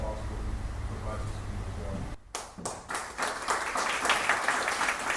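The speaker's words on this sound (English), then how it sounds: "I want to give you guys a round of applause" Town hall audience breaking into applause after a brief pause, scattered claps building into fuller, steady clapping from a moderate distance in an indoor hall, following a stretch of background room tone.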